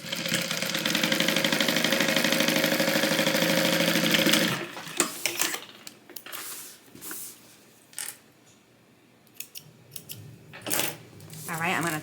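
A sewing machine stitches a zipper pocket on a tote bag, running loud and steady for about four seconds, then stops and gives way to handling noises and rustling of fabric.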